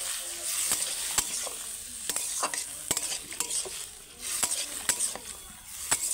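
Banana stem and pressure-cooked salted potatoes get stirred in a pan for a prawn curry, with repeated crisp clacks of a spatula on metal over a soft, steady sizzle.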